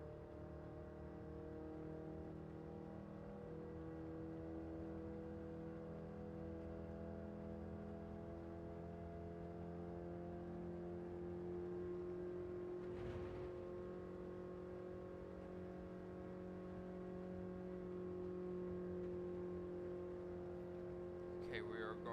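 A Toyota van's engine strains under load in Gran Turismo 7, a steady, droning hum that holds at a constant pitch, with one brief swell midway.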